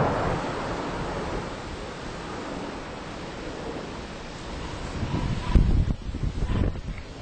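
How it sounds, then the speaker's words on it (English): Strong, gusty high wind blows in Las Vegas, Nevada, a dense continuous roar buffeting the microphone throughout, with heavier low thumps near the end, loud and close with no voices. "It's like hurricane force winds out here."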